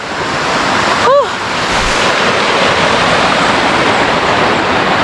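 Waterfall roars as a loud, steady broadband wash of rushing water close by, with wind buffeting the microphone and a brief whistle-like sound near the start; no clear talking.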